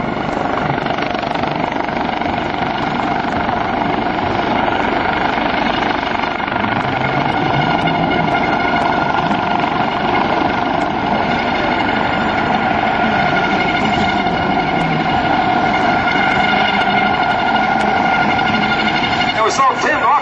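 Coast Guard HH-65C Dauphin helicopter hovering over an airshow hoist rescue demonstration, its rotor and turbine drone loud and constant for the whole stretch, with a voice talking over it.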